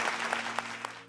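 Audience applause welcoming the musicians at a folk music show, steady close clapping with a few sharper individual claps standing out, continuous throughout.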